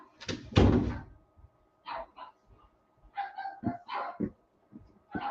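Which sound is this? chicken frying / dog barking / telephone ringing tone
dog barking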